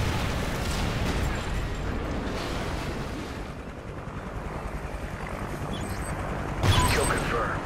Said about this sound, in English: Friendly chopper inbound.